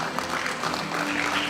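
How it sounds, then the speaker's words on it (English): Brief burst of steady applause from an audience at a college graduation award ceremony, a dense wash of clapping hands heard at moderate distance. "Let's give a big round of applause"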